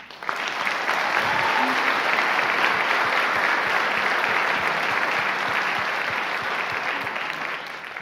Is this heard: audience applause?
yes